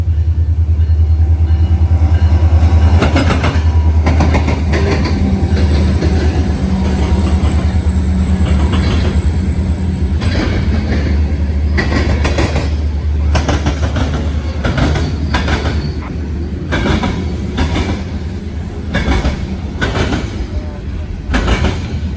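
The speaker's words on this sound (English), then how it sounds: "This will be a short train." A short freight train rolls over tracks near a railroad diamond crossing, with a steady loud rumble and clickety-clack of wheels passing close by for the whole stretch, along with some faint speech.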